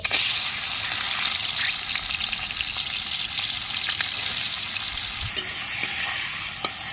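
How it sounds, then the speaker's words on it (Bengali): Prawns coated in salt and turmeric fry in hot oil in a kadai, a loud, dense hiss and crackle that holds steady throughout, with a few sharper spits and pops, close and alone. "নুন হলুদ মাখানো চিংড়ি মাছ আমি ভেজে নিচ্ছি"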